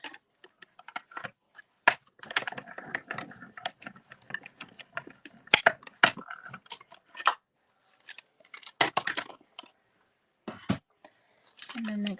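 A small papercraft die-cutting machine cuts a stamped image in a series of sharp clicks and ticks. The irregular clattering comes close and fairly quiet, with silent gaps in between.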